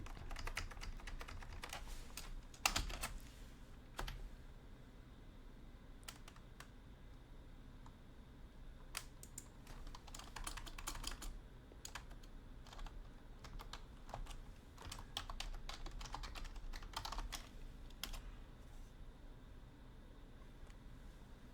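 Quiet typing on a computer keyboard with lagging trouble, scattered clicks in irregular bursts over a faint steady hiss, close but low in level, with no talk.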